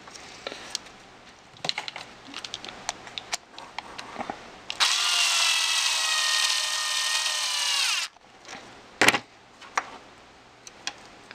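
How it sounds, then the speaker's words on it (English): Tightening a nut onto a bolt while rebuilding a Stampede, heard as scattered clicks and taps around a loud steady power-driver whine lasting about three seconds, then a few more knocks. "Put on the nut. And gonna go ahead and tighten that down."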